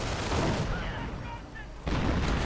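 Artillery shells land in a World War II real-time strategy battle, a Company of Heroes style match, with several booming explosions. Gunfire and broadband noise sit under the blasts, which fade midway and then return loud and dense.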